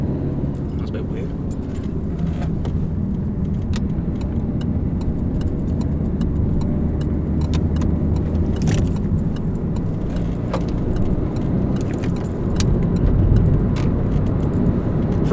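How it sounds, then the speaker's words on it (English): Inside a moving high-mileage Peugeot 308 diesel, a low, steady engine drone and road rumble run throughout, with small rattles and clicks on top and a voice talking over it. "For a diesel, the engine is not too rough either."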